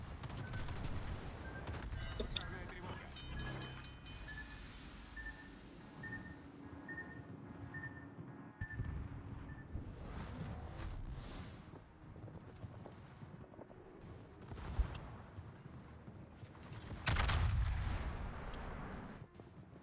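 Ship guns firing shells in World of Warships, the Sibir's booming salvos punctuating a low rumbling battle bed, with heavier blasts near the start and a big burst late on, fairly faint overall.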